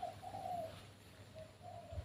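A decoy dove coos softly and close by in two low, rounded phrases, with a faint background hum and nothing else.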